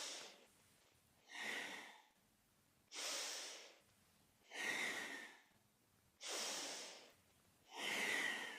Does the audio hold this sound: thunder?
no